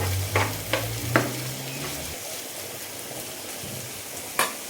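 Soaked chana dal tipped into a pan of frying onions, giving a steady close sizzle with a few sharp scraping stirs early on and one more near the end, with no voices.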